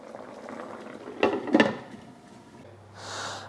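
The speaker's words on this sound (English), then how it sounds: "So now I've just brought this up to a boil" Beef cooking liquid brought to a boil in a crockpot, soft bubbling and gurgling with a couple of louder splashy bursts, then a brief faint hum at the end.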